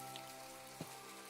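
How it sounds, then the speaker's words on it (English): Steady rain falling on surfaces in the video game My Time At Portia, a soft continuous wash with a brief thump near the middle and no talking. "Let's get out of this rain."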